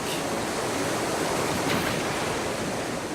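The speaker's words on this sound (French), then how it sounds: "les eaux tumultueuses de l'Eisbar offrent même des vagues d'entraînement aux surfeurs" Rushing river water of the Eisbach standing wave in Munich's Englischer Garten, where surfers ride, roars as a steady, dense, loud wash with no break or voices.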